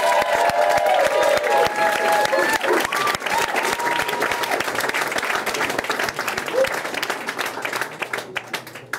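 Sustained, dense applause with some cheering from an audience greeting youth slam poetry performers from Louder Than a Bomb, steady and full throughout before tapering slightly near the end.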